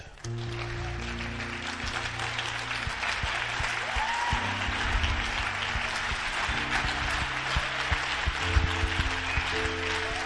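A church congregation applauds in worship, sustained crowd clapping at moderate distance running steadily throughout, with a sung or sustained musical tone faintly beneath.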